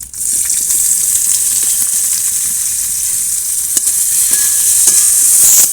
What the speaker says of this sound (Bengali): পেঁয়াজটা একটু ভালো করে ভেজে নেবো আগে